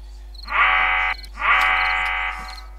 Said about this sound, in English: Did you set up an alarm?